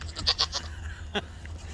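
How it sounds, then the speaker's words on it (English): Farm goats bleating, a quick run of several short nasal bleats near the start and one more a moment later, close and clear against a low background hum. "This is my little beetly goat right there, the white one."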